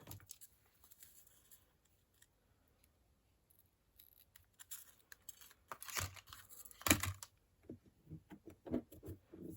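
Scissors cutting through paper card for a crafting project, a quiet start followed by several close snips and slicing rustles, no talk.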